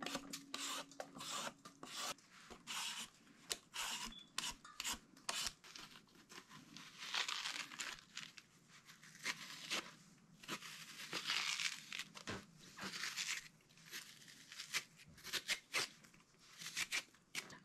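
Zucchini is peeled and its flesh and seeds scraped out in a kitchen, giving repeated close, rasping scrapes and rubbing strokes in irregular bursts with no talking.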